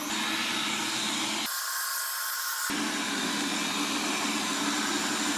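A Xiaomi Viomi SE laser robot vacuum cleaner with 2200Pa suction runs close by with a loud, steady whooshing hum. Partway through, the tone briefly thins and shifts before the full roar returns.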